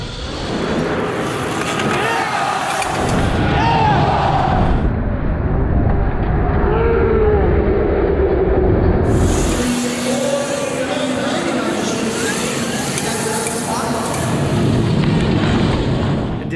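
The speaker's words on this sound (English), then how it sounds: "Now my ride is a whiz as I power up the turns, then a grinding of the dirt as I jump on the brakes" A Zero FX electric motorcycle rides and brakes on a dirt track: a steady loud whine and rushing noise powering through turns, then gritty grinding of dirt under braking, with wind buffeting throughout and no engine roar.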